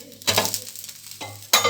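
A rava dosa sizzles on a hot pan as it is flipped, with a soft scrape and clink of the spatula, then frying hiss that swells in short bursts around each turn.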